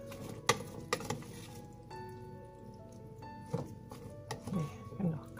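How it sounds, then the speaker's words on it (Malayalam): A spoon crushes and mixes kanthari chili, raw mango and shallots in a bowl, giving soft squishy presses and a few sharp taps and scrapes, close and fairly quiet, with some faint tonal background sounds. "അതുകൊണ്ട് സ്പൂൺ വെച്ച് നമുക്കൊന്ന് ഞെവടി കൊടുക്കാം"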